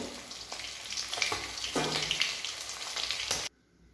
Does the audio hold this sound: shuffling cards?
no